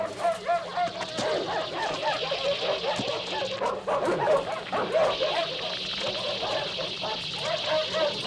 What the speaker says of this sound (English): hearing the dogs barking